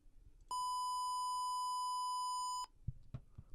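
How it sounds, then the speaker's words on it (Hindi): A square-wave beep tone generated in Pro Tools sounds as one steady, buzzy, harmonic-rich tone lasting about two seconds, loud and alone, followed by faint clicks. "स्क्वायर का टोन थोड़ा सा हार्ड होता है"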